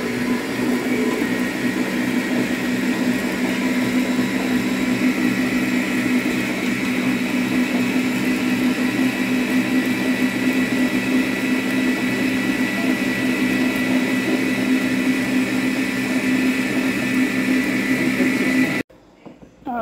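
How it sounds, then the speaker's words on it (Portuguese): A stand mixer runs steadily as it shreds cooked dried beef (carne de sol), a loud continuous motor whine and churning hum that holds for the whole stretch before cutting off abruptly near the end. "tô colocando na batedeira para desfiar"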